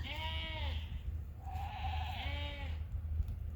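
Suffolk sheep and lambs on a farm paddock bleat: two drawn-out, wavering calls, each about a second long, heard close against a low steady background rumble.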